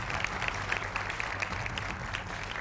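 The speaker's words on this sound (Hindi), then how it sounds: "तालियों के साथ उनका स्वागत कीजिए।" A crowd applauds steadily, dense clapping at moderate volume sustained throughout.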